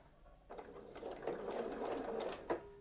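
A domestic sewing machine stitches a seam on a fabric bag organiser, starting after a short quiet pause with a steady, fast, close mechanical whirring and needle clatter that stops with a final clunk.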